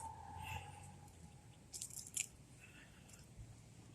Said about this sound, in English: this one's nibbling too on the crackers this morning for its breakfast